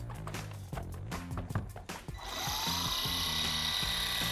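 Orbital buffer polishing a car hood with a finishing pad and mild compound; after some clattering handling, a steady whirring motor hum runs continuously.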